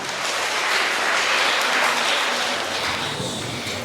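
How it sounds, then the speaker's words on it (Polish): Audience applause at a school patron's day celebration, a dense, even wash of clapping from a crowd, steady and fairly loud for the whole stretch with no voices standing out. "Brawa, brawa!"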